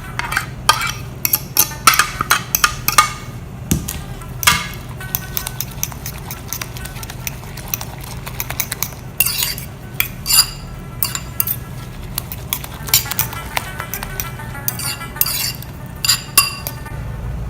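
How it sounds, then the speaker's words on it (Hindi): A fork or whisk clinks rapidly against a bowl while beating eggs with chopped vegetables, a busy, continuous patter of close metallic taps. "अब इसमें सारे वेजिटेबल्स ऐड करके अच्छी तरह फेंट लें।"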